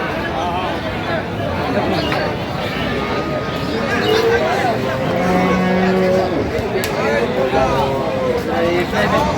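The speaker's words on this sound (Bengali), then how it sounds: "বিশ হলে বিক্রি করবেন ভাই বেশ সুন্দর গাভি বাছুর" Cattle, cows with calves, moo repeatedly over a busy outdoor crowd at the Aftabganj cattle market, with people chattering throughout and the lowing calls rising clearly above the babble.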